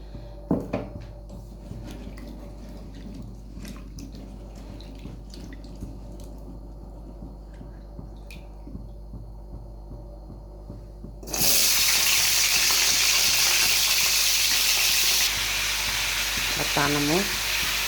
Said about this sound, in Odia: କଢ଼ା ଗରମ ହେଇଗଲାଣି, ମୁଁ ତେଲ ପକାଇ ଦେଉଛି କଢ଼ାରେ।